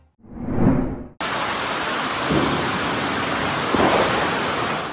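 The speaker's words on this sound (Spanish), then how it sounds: "Estos 2 aguaceros torrenciales se han registrado en las últimas horas en Bucaramanga, en Colombia." A torrential downpour in Bucaramanga, Colombia: a brief low rumble of thunder swells and fades, then a sudden dense wall of heavy rain hisses loudly and continuously, with occasional stronger gusts in the roar.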